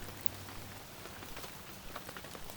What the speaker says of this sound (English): it's a rainy, foggy October day